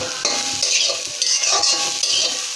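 Mustard greens being fried and stirred in a pan over medium heat: a steady bright sizzle with repeated scraping strokes of a spatula, close and fairly loud, no talking.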